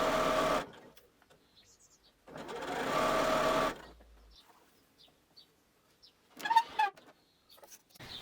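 A domestic sewing machine stitching a pinned curved seam on a cami top, running in two steady bursts of a few seconds each, close and fairly loud, with quiet gaps and a few brief clicks between.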